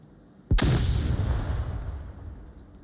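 A flashbang grenade goes off in the Onward VR shooter: a single sharp, loud blast lands about half a second in and trails off into a long, rumbling decay.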